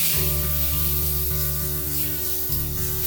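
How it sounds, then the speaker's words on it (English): Onion masala with finely chopped tomatoes sautés in a pan for Amritsari chole, a close, steady hiss and sizzle that continues without pause, with a low hum underneath and no talk. "Now keep sauteing this masala till the tomatoes are cooked."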